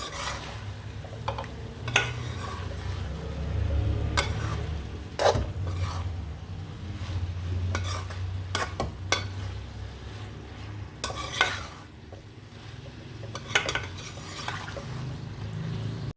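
Fried okra and onion being stirred into chicken in a pan for a Pakistani bhindi chicken dish, with steady scraping and clinking of a utensil against the pan over a low sizzle, close and continuous with no talk.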